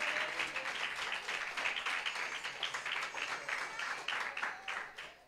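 A church congregation claps during a lively worship service, the clapping falling into a loose rhythmic beat with sharp, regular hand strikes and a faint murmur of voices beneath.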